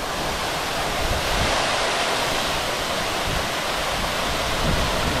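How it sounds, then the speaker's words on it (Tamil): Steady, dense roar of an 80-foot waterfall at Kolli Hills with bathers in the pool, heard up close as continuous crashing water with no break and no voices. "80 அடி ஹைட்லேருந்து தண்ணி கொட்டும்னு நினைக்கிறேன்."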